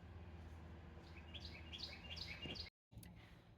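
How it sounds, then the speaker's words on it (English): Birds sing outdoors, a Carolina wren, a northern mockingbird and a blue jay, with bright chirps and tweeting phrases in the middle distance over low steady background hum and a brief dropout near the end. "That app just picked up a Carolina wren, a northern mockingbird, and a blue jay while I was sitting out here"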